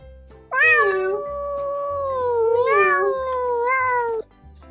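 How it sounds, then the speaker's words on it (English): A cat meows in two long, drawn-out wails, loud and close, with a brief pause between them and nothing else heard. "The cat goes, meow."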